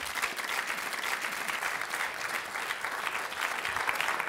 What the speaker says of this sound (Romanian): Doamnelor și domnilor, aplauze pentru doamna Lucia Hosu-Longin.